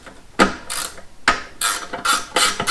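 Ratchet loosening an 8mm bolt that holds the oil dipstick tube on a Craftsman 21-inch lawn mower, several loud, close bursts of rasping pawl clicks in quick succession.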